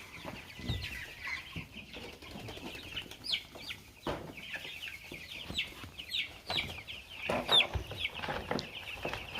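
Cornish cross broiler chicks in a brooder cheep and peep almost nonstop, a dense chorus of high, overlapping calls with occasional soft knocks and scuffs close by.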